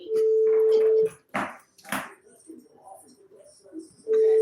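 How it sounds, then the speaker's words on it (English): A telephone rings in a radio studio: a steady electronic tone sounds, breaks off while someone talks, then starts again at the end. "Y'all hear the phone ringing."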